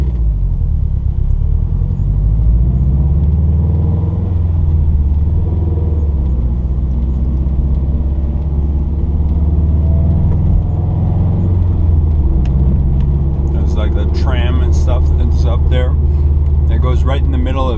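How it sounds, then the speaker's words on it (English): City traffic near a river bridge in downtown Heidelberg: a loud, steady low rumble of passing cars, with a person talking over it and some higher squeaks toward the end. "right in the middle of traffic too"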